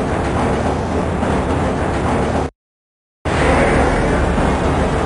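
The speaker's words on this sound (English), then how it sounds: "This train is inbound from Level 3 dormitories to Sector C test labs and control facilities." Tram ride through the Black Mesa facility in the video game Half-Life: a loud, steady rumbling rail-car roar with a rushing texture, cut by a brief dead-silent gap before resuming, with no talk.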